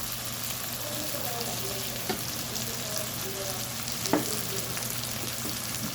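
Curry masala powders and chilli powder sauté in a pan for tamarind drumstick curry, a soft continuous sizzle with occasional stirring scrapes and clinks, fairly quiet and close.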